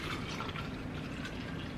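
Alkaline water pours steadily into a drink bottle holding amino powder, a continuous close gurgling fill with a bubbly liquid rush that stays even throughout, with no talking.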